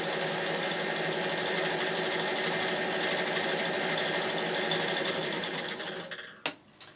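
A Bernina 840 sewing machine runs steadily in reverse, feeding a bead backwards along the right-hand side with a continuous close mechanical whir. It stops near the end with a couple of brief clicks.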